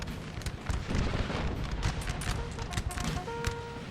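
Massed musket volleys crackle and rumble in a Napoleonic-era battle in the video game Napoleonic Total War 3, a dense, continuous roll of overlapping shots at moderate distance.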